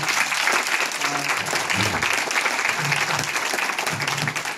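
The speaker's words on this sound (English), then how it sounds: "We want to give them a round of applause as well." Dense, continuous applause from an audience at an evening gala, steady and fairly loud throughout, with faint voices mixed in beneath the clapping.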